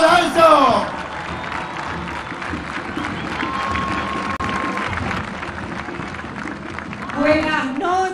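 A large crowd applauds and cheers for the vice governor of Buenos Aires province at the governor's swearing-in ceremony, with steady loud clapping throughout and an announcer's amplified voice rising over it at the start and end.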